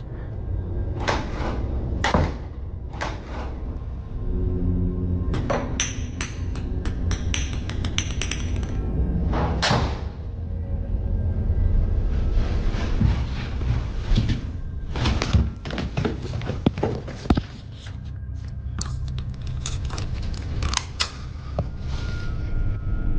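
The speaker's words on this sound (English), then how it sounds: "Then the doors started opening and closing on their own" Doors in a house opening and closing by themselves, first downstairs then upstairs: repeated sharp knocks and thuds with creaks and clatter over a steady low rumble, several close bangs spread across the stretch.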